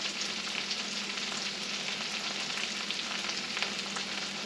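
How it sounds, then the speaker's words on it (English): Garlic frying in a pan of oil and butter, a dense continuous sizzle with a faint crackle, steady and close, no voices. "We're gonna brown up them garlic."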